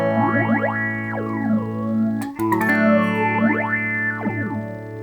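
Electric guitar routed into a synth module, with a phaser swept by an expression pedal, producing sustained tones with rising and falling sweeping whooshes, loud and alone, briefly interrupted by a clicky transient midway.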